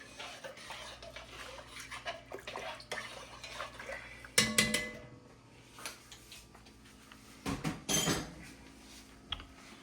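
A spoon stirs chicken bouillon into egg drop soup in a pot, giving a series of light ticking scrapes and clinks against the metal and two louder clattering bursts nearby.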